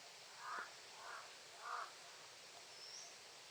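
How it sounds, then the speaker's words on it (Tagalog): Crows cawing outdoors, three harsh caws spaced about half a second apart, moderately distant and fairly faint over a steady hiss, followed by a thin faint high call. "May uwak, tol."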